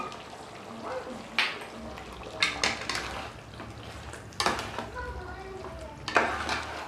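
Chicken curry masala with chili powder being stirred in a pot, giving intermittent scraping and clattering strokes of a spoon against metal over a low cooking hiss, with someone talking in between.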